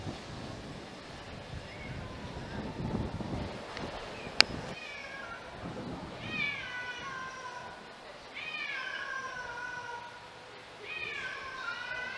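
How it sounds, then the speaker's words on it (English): A cat at the Wat Paknam temple in Bangkok meows repeatedly for attention, several drawn-out rising cries in the second half, close to the recorder over outdoor wind noise and faint background voices. "the cat is asking for attention"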